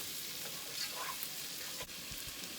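Pre-cooked smoked sausage warming in a pan, giving a steady, fairly quiet sizzle that fills the whole stretch, with a faint scrape or two and no talking.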